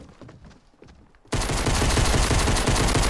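Pistol gunfire in the Fortnite video game bursts in suddenly after a quiet stretch, a loud, dense run of rapid shots that keeps going to the end.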